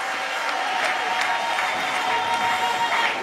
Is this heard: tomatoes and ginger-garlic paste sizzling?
no